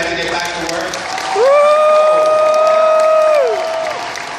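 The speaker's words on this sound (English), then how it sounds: "let's get a big round of applause for our special guests here" Applause and cheering rise from a convention panel audience for special guests in V.I.P. seating, swelling from a crowded room and holding loud and steady for about two seconds before easing off, with a sustained tone riding over it.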